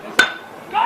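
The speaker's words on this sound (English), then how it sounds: "The bats cracked" A single sharp crack of a baseball bat striking the ball at a youth baseball game at the El Paso County Sports Park, brief and close, followed by faint ambient sound.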